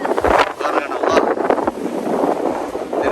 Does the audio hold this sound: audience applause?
no